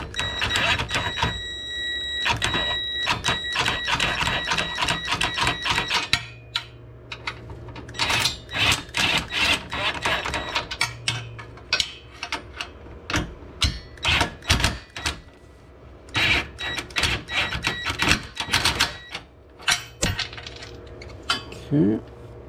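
Tightening 19 mm tow hitch bolts on a Nissan Pathfinder, heard as rapid metallic ratchet clicking in dense bursts with brief pauses, close by, alongside light clinks of tools.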